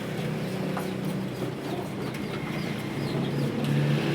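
Pigeons coo in low, throaty bursts over a constant wash of engine and traffic noise, outdoors in the evening, moderately loud throughout.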